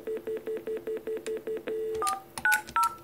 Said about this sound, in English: Call the repeater.